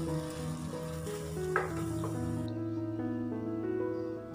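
Drinking water sprinkled over hot homemade charcoal gives a steady hiss and crackle, layered with a constant tonal hum, loud and close, with no voices.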